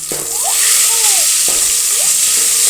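Loud, close sizzle of dried red chillies and garlic frying in an oil tempering in a pan, a constant crackling hiss with faint scraping as the pan is stirred.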